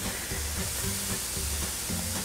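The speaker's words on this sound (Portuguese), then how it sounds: "Vou começar refogando rapidamente essa cebola aqui" A large diced onion sautés in a pan, giving a steady close sizzle and hiss that runs without a break through the short stretch, with faint low tones underneath.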